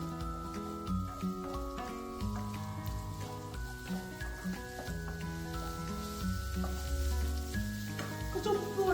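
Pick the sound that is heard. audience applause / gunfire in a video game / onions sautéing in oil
onions sautéing in oil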